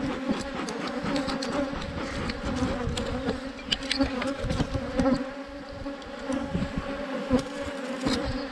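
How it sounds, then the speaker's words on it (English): Continuous loud buzzing of a crowd of honey bees swarming close around, rising and falling as bees fly past. "They are all over you. Just had a look at my camera, I've got bees covering you."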